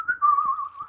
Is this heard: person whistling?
yes